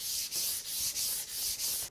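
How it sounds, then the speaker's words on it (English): Hand sanding on the back side of a cherry wall cabinet being finished with shellac and varnish, heard as close, soft back-and-forth rubbing strokes in a steady rhythm of about six passes, with no talk. "Now I'm going to flip it over and sand the back side."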